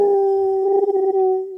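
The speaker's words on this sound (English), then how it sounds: "But on with the Bigfoot howl." An alleged Bigfoot howl played back from a recording: one long, loud, sustained tonal call that wavers slightly in the middle before fading at the end, heard alone.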